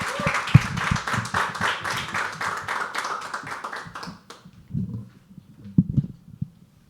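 Live audience at a poetry open mic bursts into loud, dense clapping that fades after a few seconds, leaving scattered claps and faint murmuring.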